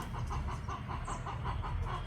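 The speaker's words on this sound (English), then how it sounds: "We've got chickens over there singing to us." Chickens cluck in a repeated rhythmic series of short calls, moderately close, over a low rumbling background.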